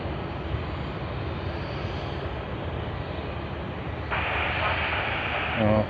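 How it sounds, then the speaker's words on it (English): A China Southern Airlines A350 airliner taxis at Sydney Airport, a steady broadband engine roar holding throughout and swelling louder near the end. "China Southern Airlines A350 moving ahead."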